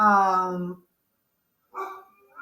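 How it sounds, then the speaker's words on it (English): A dog barks in a room, one harmonic, voiced bark and then a second shorter bark after a brief pause, fairly close and clear, with no talking over it. "Sorry for the dog."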